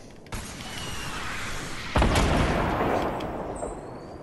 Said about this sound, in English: Where are these rockets coming from?